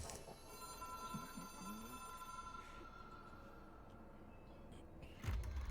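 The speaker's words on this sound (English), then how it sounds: "It is a phone. It's an object of power." An old telephone rings in the video game Control, a faint, steady electronic ringing tone over low ambience, ending with a sudden dull thump.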